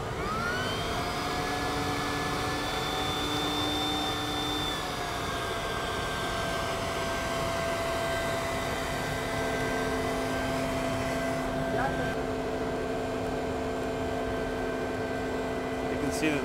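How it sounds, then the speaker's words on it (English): A vacuum pump draws air out of a resin infusion bag laid over a drag car hood mold, giving a steady droning whine with sustained tonal hums that shift pitch slightly, with voices faintly underneath. "he's going to turn on the vacuum and suck all the air out."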